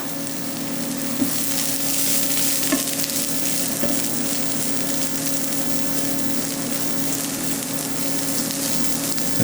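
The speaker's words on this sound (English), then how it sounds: "once our shallots start to brown, we go right in with the red cabbage" Shallots and red cabbage sautéing in a pan, a loud, steady broadband sizzle that holds evenly throughout, with occasional faint stirring knocks and a constant low hum underneath.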